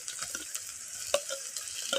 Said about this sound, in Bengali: এখন আমি পেঁয়াজের উপর দিয়ে দেবো এই যে কেটে রেখেছিলাম ছোটো ছোটো করে টমেটোগুলোকে